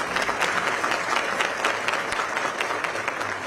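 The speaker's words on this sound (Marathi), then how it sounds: "स्वतःसाठी टाळ्या वाजवा" Applause from an audience of police officers at a Mumbai police gathering, dense and steady throughout, close and fairly loud with no pauses.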